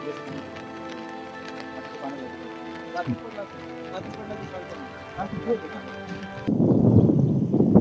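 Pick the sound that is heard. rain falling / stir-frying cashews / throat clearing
rain falling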